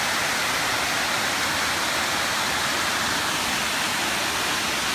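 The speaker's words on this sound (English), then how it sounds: "Another wonderful waterfall." A waterfall cascades at Pictured Rocks National Lakeshore in Michigan, a steady, loud, broadband roar of rushing water that continues without a break.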